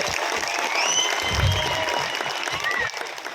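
Audience clapping for the teachers at a gathering, a dense burst of applause running steadily for a few seconds under a faint voice, tapering slightly at the end.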